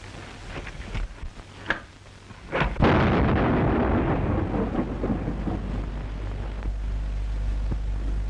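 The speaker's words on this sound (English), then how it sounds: "Explosion." A loud explosion bursts out in a 1935 film serial, preceded by a few sharp cracks, then a heavy rumbling roar that lingers and rolls on for several seconds with no voices.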